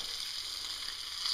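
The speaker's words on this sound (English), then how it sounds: "get this bacon going, and it's putting out a lot of heat" Steady, close sizzling and crackling of bacon frying over a small Emberlit wood-burning camp stove, a dense hiss that carries on without a break for the whole moment.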